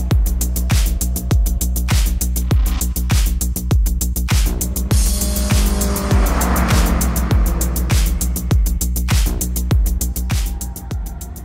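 A Subaru WRX race car laps the Mandalika circuit, its engine droning loud and close with rhythmic repeating pulses throughout, and a brief hiss of tire squeal midway.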